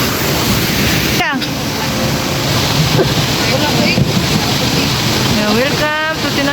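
Tinuy-an Falls, a large waterfall, roaring as a constant dense wash of water close by, with faint voices and brief whistle-like chirps over the steady rush.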